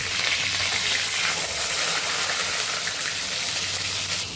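Paneer fries in a pan with a loud, dense, continuous sizzle that stays steady throughout, with no voices.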